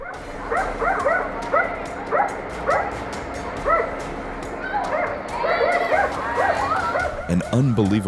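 A dog gives repeated short yips and whimpering barks in uneven bursts, fairly close, with people talking over it.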